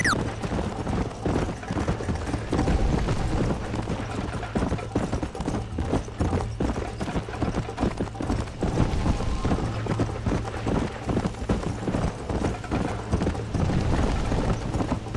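A horse gallops at a race pace in Red Dead Redemption, a steady, quick clip-clop of hooves on the ground that runs on for a long stretch under low rumbling ambience.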